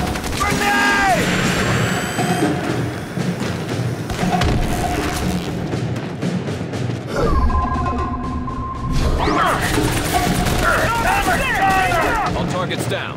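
In a combat video game, a grenade blast and rattling gunfire mix with dense battle effects, loud and continuous, while voices call out over the chaos.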